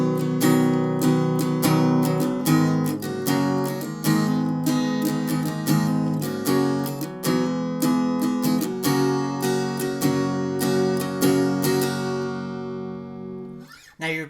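Acoustic guitar strummed through the chord progression of a song, steady repeated down-and-up strums ringing close and loud without any talking, fading out at the very end.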